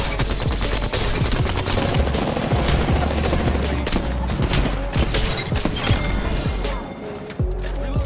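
Rapid, dense gunfire and sharp shots from Apex Legends fill the whole stretch, loud and continuous, with a voice talking intermittently underneath before the barrage thins near the end.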